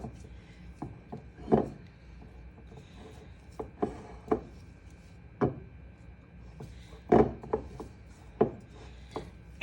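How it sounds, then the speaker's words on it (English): A spatula scraping the sides of a mixing bowl of chocolate chip cookie dough, a series of soft, irregular scrapes and knocks, close and fairly quiet. "we're going to scrape the sides of the bowl"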